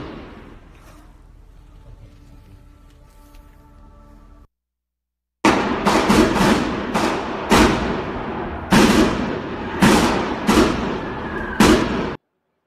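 Gunfire from a shootout at a San Diego apartment complex, caught on a phone: after a quiet stretch and a short silence, about eight sharp, loud shots crack out at uneven intervals, each with a brief ringing tail.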